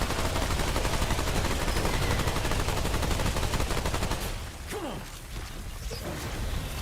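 Rapid mechanical gunfire in the video game Remnant 2, aimed at a turret, a dense rattling stream of shots that breaks off for a moment, leaving a few scattered clanks before the firing picks up again.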